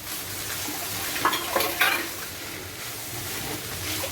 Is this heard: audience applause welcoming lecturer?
no